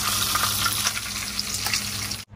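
Loud, dense sizzling and crackling of cabbage frying in a pan, continuous throughout, cutting off abruptly near the end.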